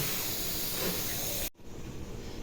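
A pot boils on a kitchen stove, giving off a loud, steady hiss of steam that cuts off abruptly partway through, leaving a quieter background.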